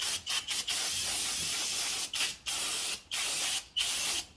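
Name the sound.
spraying cleaner to clean off brake fluid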